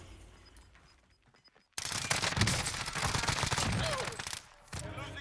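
Rapid automatic gunfire bursts loudly in a Call of Duty Warzone match, dense and sustained for several seconds after a quieter stretch, with players talking over it.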